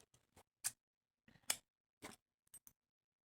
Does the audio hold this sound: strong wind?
no